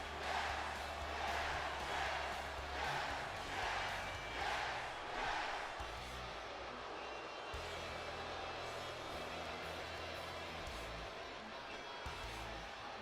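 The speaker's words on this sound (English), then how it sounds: "They may be booing, but they are still yesing." Arena crowd in WWE 2K20 booing with rhythmic 'yes' chanting during a SmackDown matchup featuring Daniel Bryan, a steady loud roar with pulsing chant swells through the first half, continuous throughout.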